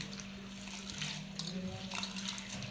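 Moth beans are rinsed by hand in water in a home kitchen, giving a soft, faint slosh and trickle at close range with no talking.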